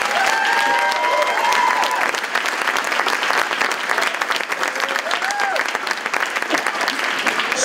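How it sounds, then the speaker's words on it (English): A crowd applauds the candidates at an event with loud, sustained clapping. Whoops and cheering voices rise over the dense patter throughout. "another round of applause for the candidates because they definitely deserve it"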